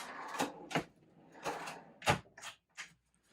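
Drawers aboard an Etap 48 DS sailboat slide and knock shut in several short, separate bursts, close by, with quiet gaps between them and no voices.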